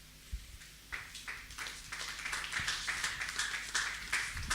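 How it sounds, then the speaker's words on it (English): Audience clapping for a surgeon at an innovation summit, starting as scattered claps and building into steadier, fuller applause that swells toward the end. "Please keep clapping, keep clapping, keep clapping, keep clapping for the surgeon"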